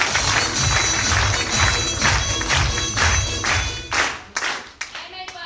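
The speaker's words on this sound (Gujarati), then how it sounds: "એકવાર મારી લવલી ટીમ માટે જોરદાર તાળી" An audience at a group meeting breaks into loud, brisk applause for a team, dense clapping that holds for about four seconds before thinning to a few scattered claps.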